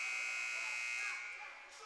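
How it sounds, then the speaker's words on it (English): A long, steady electronic end-of-game buzzer blares across an ice hockey arena during an NAPHL showcase game, holding one harsh tone before fading out beneath crowd noise. "As the buzzer sounds"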